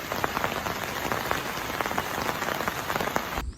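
Heavy rain pours down during a typhoon, a dense, continuous patter on surfaces close by, loud and unbroken until it cuts off at the end.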